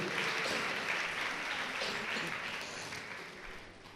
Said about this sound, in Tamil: நல்ல ஒரு கைத்தட்டு கொடுக்கலாமா ஆண்டவருக்கு?